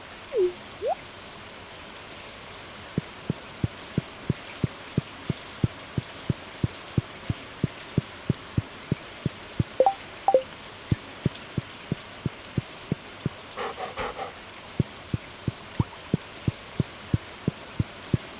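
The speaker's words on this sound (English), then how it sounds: "Hear that it is raining." Soft rain falling in the Stardew Valley video game, a faint steady hiss under a regular train of clicking ticks, with a few brief chirps and blips scattered throughout.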